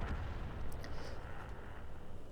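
Rumbling artillery fire in the World of Tanks video game, a sustained heavy low boom and roll that fills the moment with dull, distant-sounding explosive thunder.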